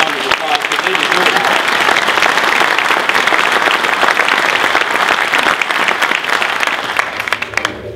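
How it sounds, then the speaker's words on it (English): An audience at a Corvette assembly plant update event applauds the plant team, dense sustained clapping from a large crowd that carries on for several seconds before tapering at the end. "give these guys a round of applause"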